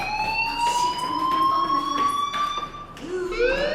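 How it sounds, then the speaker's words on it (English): A fire alarm in the video game Life Is Strange: a steady, high, electronic tone sounds continuously with a slightly rising pitch, loud and close, and a short rising siren-like sweep comes in near the end. "Hey, do you hear that fire alarm?"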